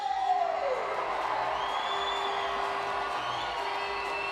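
A crowd at a county team swimming championship cheers and whoops steadily through a mixed 6 by 50 metres freestyle relay, a continuous roar under a faint whistle-like tone.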